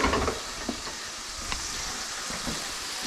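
Baby tomatoes cook in a pan with a soft, steady sizzle, faint crackles and a few light stirring taps, with no talk.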